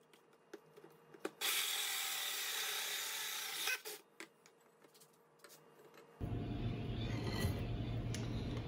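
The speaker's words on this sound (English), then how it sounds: "and then I'm gonna cut the rest of the tile out." A power tool cuts away the rest of a marble tile, a steady abrasive grinding with a short break before a louder, deeper run of cutting starts and continues to the end.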